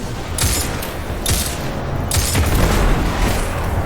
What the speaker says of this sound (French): j'ai sorti mon sniper